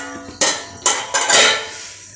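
A metal lid lifted off a pot of cooking rice, with three bright clanks and a scrape close by, the last one longer, in a quiet kitchen.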